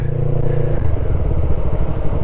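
Loud, close motorcycle engine droning and rumbling as it rides through the Atal Tunnel in cold weather, with a clattering rattle and no talking.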